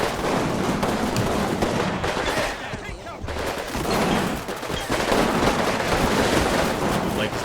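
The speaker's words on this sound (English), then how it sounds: "We are starting to get some very nice gunfire right on these buildings." Sustained crackling gunfire pours onto buildings in the WWII wargame Combat Mission: Final Blitzkrieg, dense overlapping bursts that dip briefly near the middle and then resume at a steady, loud level.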